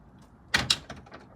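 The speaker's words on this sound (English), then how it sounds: "that's the door closer" A metal gate swings shut under a Chinese-made door closer, giving two sharp, close metallic clacks as it latches, followed by a few fainter knocks and rattles.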